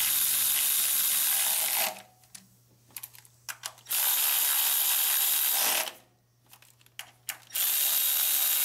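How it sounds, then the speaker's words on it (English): A ratchet tightens an ignition coil bolt on a Toyota Highlander engine during a valve cover gasket replacement, giving two long bursts of rapid clicking separated by quieter pauses with a few short clicks, close and fairly loud. "Now we're gonna tighten the coil bolt."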